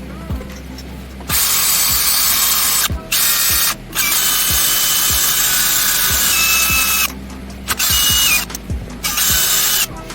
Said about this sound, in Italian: È semplicemente un avvitatore